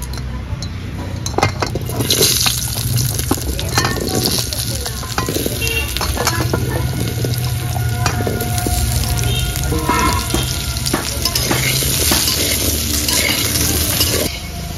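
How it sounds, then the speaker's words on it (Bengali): Cut potatoes and taro frying in oil left over from frying fish, a dense steady sizzle with scraping stirs and occasional clinks of utensils against the pan, close and loud throughout. "মাছ ভাজা তেলের মধ্যেই কেটে রাখা আলু আর কচু ভেজে নেব।"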